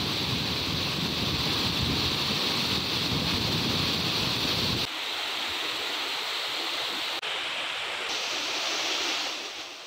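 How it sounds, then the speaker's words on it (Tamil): The flooded Chinna Suruli waterfall thunders as a dense, continuous roar of heavy water, loud and close, shifting to a thinner hiss partway through, with no voices. "தொடர்ந்து 6வது நாளாக நீடிக்கும் வெள்ளப்பெருக்கால் அருவி உருகுலைந்து காணப்படுகிறது"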